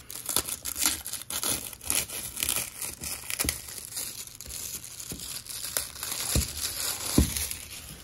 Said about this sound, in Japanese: じゃあまずビニール取りましょうか